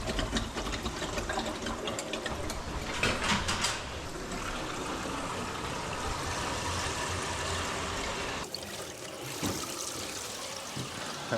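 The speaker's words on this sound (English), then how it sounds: "I don't understand what I'm hearing water in those hot water lines" Water rushing and trickling through the hot water lines of a small cabin plumbing system turned on for the first time, a steady loud hiss and gurgle throughout with occasional knocks.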